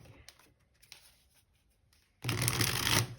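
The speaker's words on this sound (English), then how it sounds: "I just split it to shuffle" A tarot card deck is split and riffle-shuffled, giving a quiet handling and tapping of cards followed by a loud, dense burst of fluttering cards lasting about a second.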